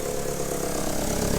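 A Mk1 Ford Focus RS Turbo, abandoned for four years and with studs missing on the exhaust manifold, idles with a bad exhaust blow: a steady, loud, rough drone that continues without a break.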